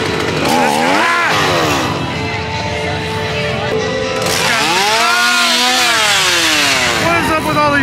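Chainsaws rev in loud, rising and falling whines near scare actors at Halloween Horror Nights 2022 at Universal Studios Florida, with people talking and screaming over the engines.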